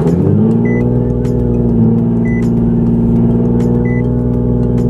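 Nissan 370Z driven at night, its engine a loud, steady low drone with strong harmonics and a slight shift in pitch partway through, continuous and close with no talking.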